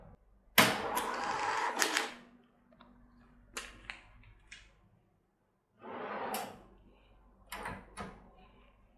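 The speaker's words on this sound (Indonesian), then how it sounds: "maka pintu cash drawer akan secara otomatis terbuka" A restaurant cashier's drawer springs open automatically at checkout, a loud mechanical slide and clunk followed by a few sharp clicks and knocks, then a second burst of rattling as coins or the drawer are handled.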